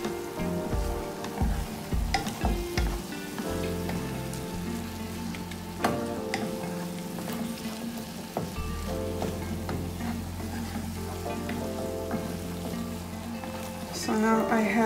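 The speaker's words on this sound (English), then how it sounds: "make sure you mix all the ingredients together" Sardine tart ingredients are stirred in a sizzling pan, with scraping and knocking strokes over a steady frying hiss, close by, and a voice talking at points.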